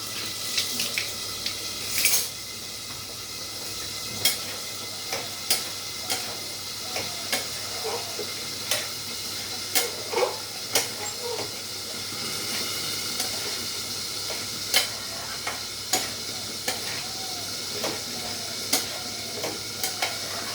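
Vegetables, including kundri, sizzling and frying steadily in a pan on a stove with the heat turned up, a continuous hiss broken by frequent sharp crackles and pops, close and fairly loud, with no talking.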